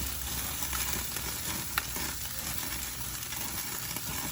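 Barbecue-sauced ribs sizzle in a pan as they are flipped, giving a continuous crackling fry with a brief scrape partway through.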